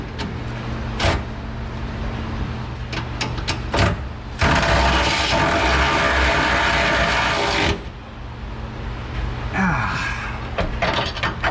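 A ratchet wrench turns the top bolt of a shock absorber on a 2007 Silverado 6.6L Duramax in a shop, giving a loud burst of rapid clicking of a few seconds between quieter workshop knocks and handling sounds.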